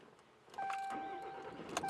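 2017 RAM 3500 SLT pickup starting up: a brief whirring crank followed by the engine catching into a steady idle hum with a high whine, fairly quiet and close, no talking.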